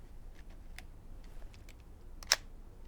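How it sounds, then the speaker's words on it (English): Kiev 35mm rangefinder camera, a Contax copy, firing its shutter once near the end as a single sharp mechanical click, with faint small clicks of handling before it. "This is the Kiev camera, and listen to this for a shutter sound."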